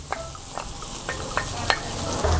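Garlic frying in a pan on raised heat, a continuous close sizzle with several sharp scrapes of a ladle stirring at a steady, unhurried pace, and no voices.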